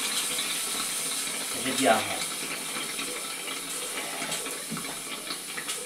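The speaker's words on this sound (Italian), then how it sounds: "Apro l'acqua calda." Hot water runs from a tap during a DIY water heater installation, a steady hiss of flowing water with a brief gurgle early on, while someone speaks briefly over it.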